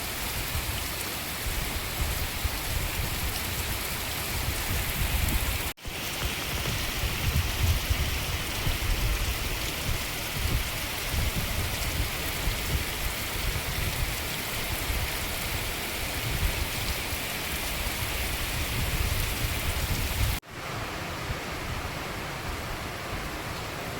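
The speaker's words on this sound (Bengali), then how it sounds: "আজকে যা বৃষ্টি হচ্ছে" Heavy rain pours down in a loud, continuous roar of drops on surfaces, steady throughout, broken only by two brief cuts, with no talking.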